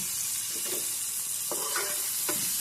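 Chopped ginger, about a dozen minced garlic cloves and three green chilies crackle in hot oil, a steady close sizzle broken by a few sharp scrapes of stirring.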